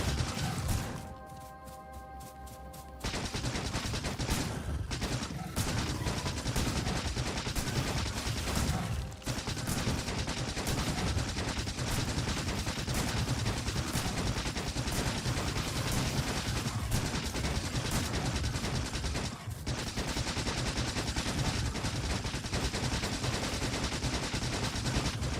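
Rapid, dense shotgun fire at alien hives in Factorio pounds on almost without a break, loud and harsh with crashing impacts, after a brief quieter opening.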